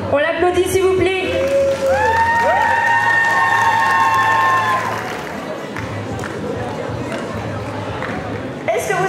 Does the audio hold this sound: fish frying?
no